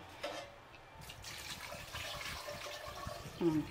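Water poured over washed potatoes in a pot before boiling them for an aloo masala fry: a steady, close splashing pour that runs continuously for a few seconds, with a brief fuller gush near the end and no talking.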